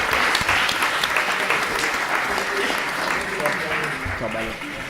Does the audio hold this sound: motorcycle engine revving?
no